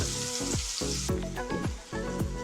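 Three large chopped onions frying in a pan with clove, dry ginger and cinnamon powder for a thin soybean curry, a steady close sizzle broken by several regular scraping stirs.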